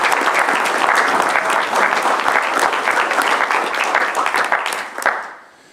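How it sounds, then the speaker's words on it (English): An audience at a tribal council meeting gives loud, dense applause, many hands clapping close and steady before it tapers off and fades near the end. "So let's give them one more round of applause."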